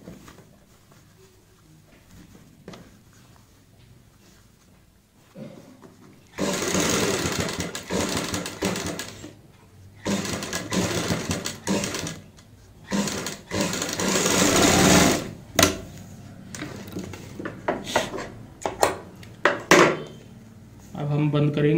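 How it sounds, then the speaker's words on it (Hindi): A sewing machine stitches an invisible zip into a kurti, whirring in loud bursts of running stitches separated by short pauses, with quieter handling noise in between. "सिर्फ हमें ऐसे सिलाई लगानी है।"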